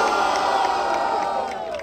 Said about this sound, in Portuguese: Barulho pra quem gostou das imagens, AJ!